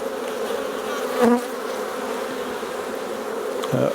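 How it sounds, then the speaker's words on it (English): Honeybees buzzing from an open, vigorous hive during an inspection, a dense continuous hum close to the ear with a few louder passes of individual bees. "So it's good to see nice healthy bees, and they all look fine."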